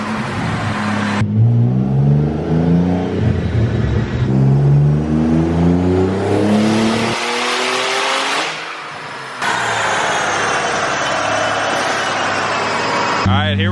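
Twin-turbo Nissan 370Z on a chassis dyno, engine loud and close, revving hard through several rising pulls with brief drops and stutters at high RPM, and a voice speaking between runs.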